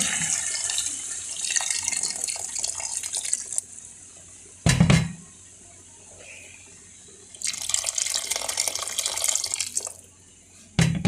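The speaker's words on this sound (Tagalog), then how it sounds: "Kasunod yan ay tubig." Water pours from a tap into a pot of chicken tinola with courgette, steady splashing that stops abruptly, resumes in a louder gush, then tails off with a final clatter.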